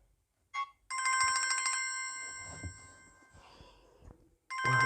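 A phone ringtone chimes loudly in repeated bursts, with a short gap after the first chime and another silence before it rings again, all heard while someone calls a doctor for a consultation.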